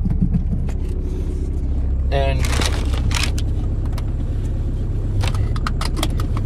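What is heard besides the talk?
VW car engine starting and running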